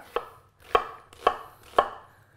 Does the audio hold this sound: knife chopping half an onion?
yes